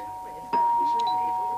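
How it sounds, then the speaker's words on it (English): A single electronic doorbell tone rings out suddenly and holds steady, a clear sustained chime close by. "Ooh, a doorbell."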